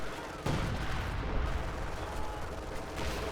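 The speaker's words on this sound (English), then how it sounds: "it's going to drop the flares on in and call in zero artillery" Continuous artillery barrage from the video game Company of Heroes 2, a dense rumbling roar of explosions and fire with a couple of sharper blasts standing out, sustained throughout.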